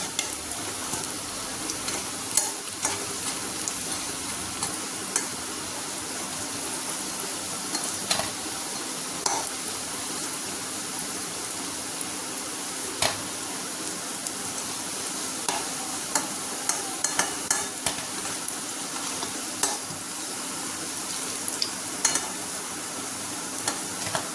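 Coriander leaf fritters (dhone patar bora) frying in oil, a steady crackling sizzle throughout with occasional sharper pops and faint utensil stirring, close and continuous with no talk.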